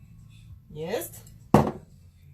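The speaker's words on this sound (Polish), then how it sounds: "teraz zakładam przykrywkę z miarką" A plastic lid with a measuring cup is set onto a kitchen robot jug, a short scraping slide followed by one sharp close clack, in a quiet kitchen.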